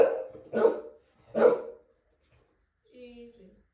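Two loud, close dog barks in quick succession outdoors during a training session, followed by a short whimpering whine; a person speaks quietly around them.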